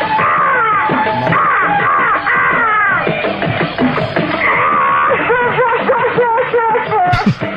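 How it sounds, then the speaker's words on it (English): Loud, raucous yelling, screaming and laughing from several people singing along over music on a radio broadcast, continuing without a break. "Sorry about that yelling and screaming, but Pete and I are on a trip"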